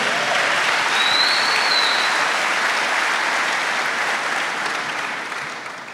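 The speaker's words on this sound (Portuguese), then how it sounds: "Pode aplaudir, é cura acontecendo." Warm, continuous applause filling a church service, steady for several seconds before gradually tapering off, with a faint cheer rising briefly above the clapping.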